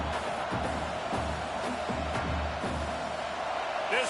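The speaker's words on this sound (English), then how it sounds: "This crowd trying to make life miserable for this offense." Stadium crowd noise in a college football video game, a dense, steady roar of fans filling the background under a commentator's voice, loud and continuous without clear peaks.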